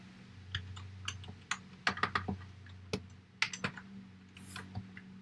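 Fingers type on a computer keyboard in quick irregular bursts of close, crisp key clicks over a faint steady hum, with short pauses between runs of keystrokes.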